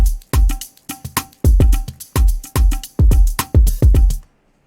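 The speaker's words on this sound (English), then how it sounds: "the drums sound like this together" An aggressive programmed drum line pounds out a tight repeating beat of punchy kick and snare hits, loud and close, cutting off abruptly just before the end.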